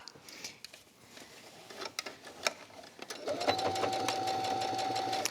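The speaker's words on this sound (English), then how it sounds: "now we're just gonna stitch around the top" A sewing machine stitches around the top edge of a quilted fabric tablet case, running in a steady, loud mechanical whir with a high whine after softer handling noises at the start.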